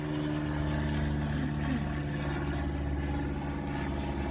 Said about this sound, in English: I'll let that plane go by.